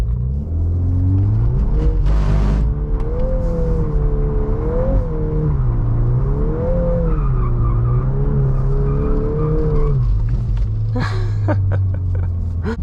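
An MK8 VW Golf R spinning donuts in drift mode, its engine droning loudly and rising and falling in pitch as the tires squeal and scrub continuously, close and powerful.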